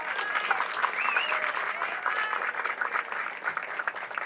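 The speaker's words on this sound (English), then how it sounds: "Let's give him a round of applause." Steady, dense applause from a crowd at a memorial rededication ceremony, continuous and fairly loud throughout with a few faint voices mixed in.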